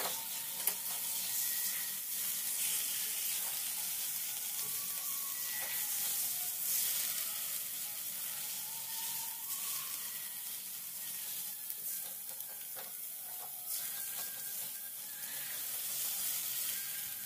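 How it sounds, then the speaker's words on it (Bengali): Fried prawns stirred into poppy seed masala in a hot pan give a steady, moderately loud sizzle and hiss throughout, with occasional scraping stir sounds and no talking. "মাছগুলো মশলার মধ্যে দেওয়ার পর আবারও একটু নেড়েচেড়ে নিচ্ছি।"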